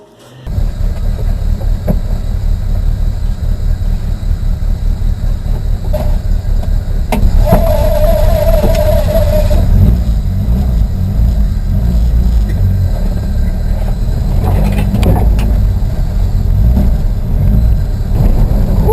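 An old Volkswagen Santana with poor brakes drives along a street, a loud, steady rumble of engine and road noise from inside the car with rattles and clatter, lasting throughout.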